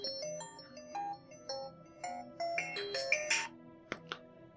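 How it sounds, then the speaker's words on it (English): Phone ringtone playing a bright melodic tune of stepped electronic tones, loud and alone for several seconds with no talk over it. "Sorry about that, that was my phone."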